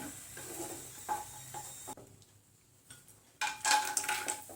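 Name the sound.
cashews frying and stirred in ghee in a pan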